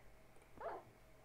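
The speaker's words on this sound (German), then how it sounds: "Ah, das ist ein Hund!" A single short dog bark or yip from a Minecraft dog, heard once in the middle over quiet game background with no talking.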